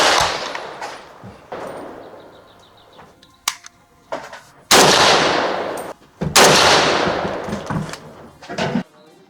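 Rifle shots fired at a 50-meter range from an AK-pattern rifle, a handful of sharp, loud reports spaced a second or more apart, each with a long ringing decay, separated by quieter stretches of handling noise.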